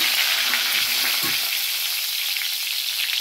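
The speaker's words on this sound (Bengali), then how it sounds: "কড়াতে তেল দিয়ে দিয়েছি, এবারে দিয়ে দেবো সব ফোড়ন, তেজপাতা" Whole spices and bay leaf crackle and sizzle in hot oil in a wok, a steady bright frying hiss with a few soft stirring knocks early on, close and alone without voices.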